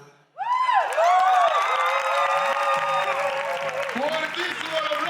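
A concert audience bursts into loud applause after a song, with sustained cheering and shouting voices over the clapping, close and unbroken once it starts.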